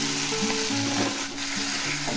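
Prawns frying in hot mustard oil in a home kitchen, a steady close sizzle with crackling bubbles and a faint stirring scrape, continuous and alone.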